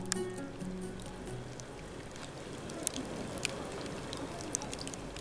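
Faint, sparse crackles and ticks of handmade seaweed sheets drying in sun and wind, over a soft, steady background hiss, quiet and close.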